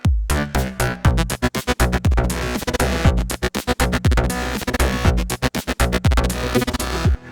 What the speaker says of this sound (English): So let's say that for the second half I want that repeating volume thing in there